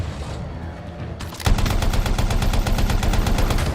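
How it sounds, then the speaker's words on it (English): In the video game Anthem, a light machine gun opens fire in a rapid, steady stream of loud shots that sets in after a quieter stretch of game noise and continues to the end. "I was firing the light machine gun at the time."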